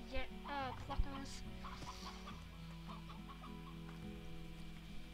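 Video game chickens in Slime Rancher clucking and squawking close up over steady game music and ambient tones, a few sharp clucks near the start and softer chatter afterward.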